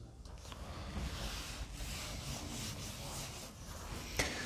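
An eraser rubs steadily across a classroom board, making a continuous dry, scratchy swish for several seconds that ends with a small knock.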